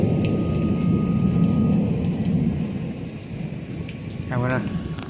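Heavy thunderstorm rain pounds down continuously around a house while low thunder rolls beneath it, easing slightly partway through before building again; a brief faint tonal sound pokes through near the end.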